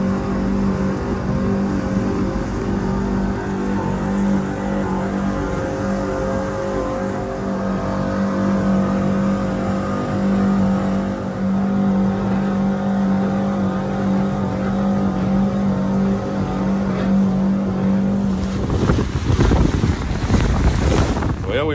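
A fishing boat motors across big, rough water in strong wind, a loud continuous engine drone under buffeting wind noise, with a burst of heavier rushing and splashing near the end.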